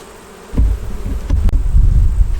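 Honey bees swarm loudly around an open hive during an inspection, a dense, close buzzing that surges in after a quiet start and keeps droning with fluctuating intensity.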